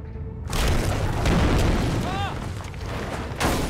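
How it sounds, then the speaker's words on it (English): A flashbang detonating in the PC game Alan Wake: a loud, full boom that fills most of the clip, with a brief bright ringing chirp partway through and a second burst near the end. "Okay, flashbang."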